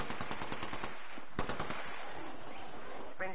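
Rapid automatic gunfire from an Apex Legends match on PS4, sustained bursts packed closely together and loud, with brief gaps and a final sharp crack near the end.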